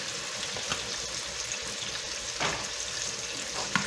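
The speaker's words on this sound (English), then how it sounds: "So now, the next step is we're going to add the tomatoes. You're going to stir them up." Tomatoes and okra fry in a hot pan with a steady broadband sizzle, broken by a few soft scrapes and clinks as a utensil stirs them, close and fairly quiet, with no voices.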